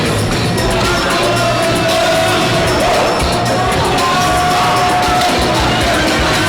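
A big crowd at a high school boys' basketball game cheers and shouts loudly and steadily during a timeout, a dense wall of voices with whoops and children yelling throughout.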